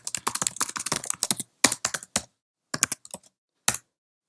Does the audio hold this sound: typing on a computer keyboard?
yes